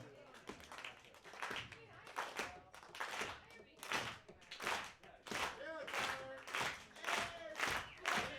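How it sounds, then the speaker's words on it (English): An audience claps slowly in separate, distinct bursts that come closer together and grow more forceful, building into a crescendo at a burlesque show in New York City. "Can we do like a slow clap that builds into a crescendo"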